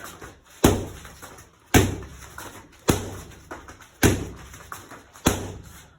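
Hooks with the rear and lead hands land on one spot of a target: five heavy thuds about a second apart, each close and sharp with a short fading tail.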